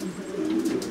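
Pigeons coo in a loft, one low steady throaty call held for about a second, close and moderately loud with no talk over it.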